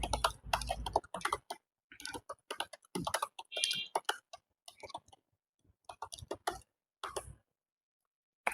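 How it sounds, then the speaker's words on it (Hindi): Typing on a computer keyboard during a typing drill, bursts of quick close key clicks with short pauses between them, and no voices. "start typing"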